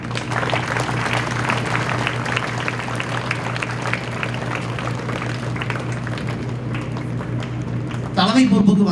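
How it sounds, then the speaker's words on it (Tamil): Schoolchildren newly given leadership roles are applauded by an audience at a school, with dense, steady clapping that runs for several seconds under a speaker's voice and swells briefly near the end. "ஒரு கைத்தட்டு கொடுங்க."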